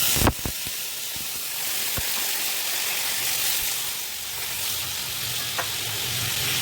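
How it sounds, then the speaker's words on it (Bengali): Water poured over fried potato and papaya in a hot pan sets off a sharp burst, then a loud, continuous hiss and sizzle that stays close and even to the end. "আমার এই আলু আর পেঁপে মোটামুটি কষা হয়ে গেছে তো এইবারে এখানে জল দিয়ে দেবো"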